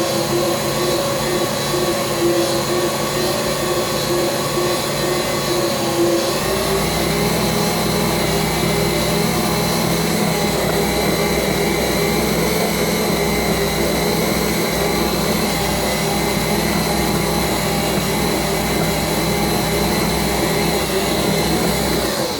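Stiff bagel dough is kneaded in a stand mixer that roars loud and steady throughout, its motor pitch dropping and deepening partway through as the load grows heavier, with no talking.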